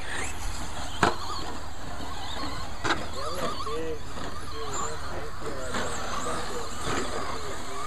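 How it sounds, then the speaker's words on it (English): Several 2wd short course trucks racing on a dirt oval at Dirt Hills Raceway in Marion, Ohio, motors droning and whining steadily in the mid distance, with a race commentator talking over them throughout. "10 trucks out there."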